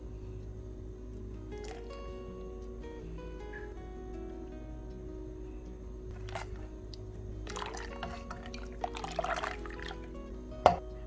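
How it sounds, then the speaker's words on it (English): Heavy whipping cream pours into a bowl for homemade ice cream, soft liquid trickles and drips over a low background hum, with a few clinks toward the end. "here is my heavy whipping cream I'm gonna add"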